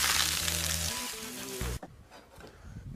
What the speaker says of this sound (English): Olive oil in.